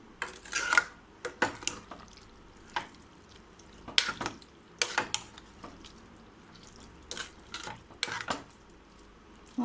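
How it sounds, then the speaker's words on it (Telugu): A spoon scrapes and clanks against a pot of beans curry, with a series of sharp metallic stirring knocks at uneven intervals, close and fairly loud, with no talking. "ఒకసారి కలిపేసుకుందాము"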